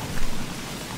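Steady rain falls in the video game Don't Starve Together, a loud, dense hiss of drops with no voices over it.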